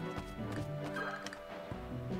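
Horses in the Lost Kingdoms 2 video game, with clip-clop hooves and a brief whinny over steady in-game ambience and music, fairly close and moderately loud.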